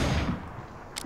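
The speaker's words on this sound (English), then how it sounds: "Shooting at our teammate." Gunfire in PUBG as one player shoots at a teammate: a loud burst at the start fades into quieter game ambience, with a short sharp crack near the end.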